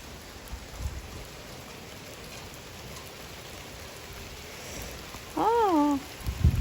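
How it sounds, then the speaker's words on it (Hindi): Heavy rain falls outside on a cold day, a steady broadband hiss of drops throughout, with a brief voice rising over it near the end. "ये इतनी मज़ेदार बारिश, ऐसे लग रहा है जैसे ना ओले से पड़ रहे, मोटी मोटी बारिश है"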